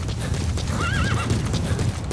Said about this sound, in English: Run, D-Horse!